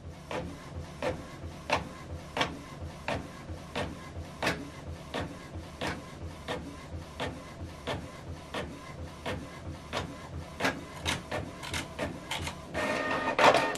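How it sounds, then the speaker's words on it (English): Office printer printing out a document, its print head sweeping in a steady series of sharp regular clacks roughly every half second, close and alone, ending in a brief whirring feed. "so this document now is printing out"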